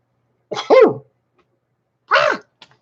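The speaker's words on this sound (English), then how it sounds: "Okay, that was a sneeze." A person sneezes twice, a sharp voiced burst followed by a second one after a short pause, close and clear against near silence.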